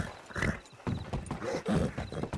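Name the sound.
horse clip-clopping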